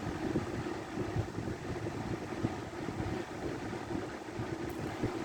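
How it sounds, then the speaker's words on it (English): A Lakewood box fan runs at steady speed nearby, giving a constant, moderately quiet whooshing drone with a low hum and no talking. "the 3rd gen is a quieter fan. This ain't that loud either"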